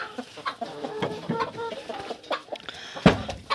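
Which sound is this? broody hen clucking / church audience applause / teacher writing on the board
broody hen clucking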